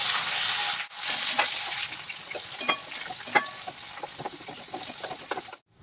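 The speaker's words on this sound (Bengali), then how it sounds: "এবার পেঁয়াজ কুচিটা দিয়ে দেব।" Chopped onion tipped into a pan of frying crushed garlic and spices, a loud initial sizzle dropping out briefly, then crackling, hissing frying with scraping stirs and clicks for several seconds before a sudden cutoff.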